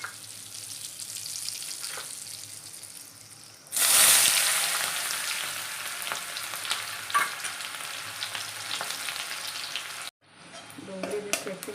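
Onions dropped into hot oil with asafoetida burst into a loud, sudden sizzle that settles into steady frying with light stirring, then cuts off briefly near the end.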